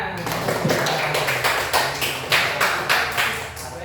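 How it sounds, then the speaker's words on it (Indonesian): A class claps in a steady rhythmic unison, sharp regular claps repeating quickly for a few seconds at close range, with voices mixed in. "Oke, beri tepuk tangan."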